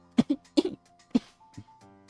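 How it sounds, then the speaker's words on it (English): A person who is sick lets out a short series of close, sharp coughs, three quick bursts and then a softer one, in an otherwise quiet indoor space. "Coughing."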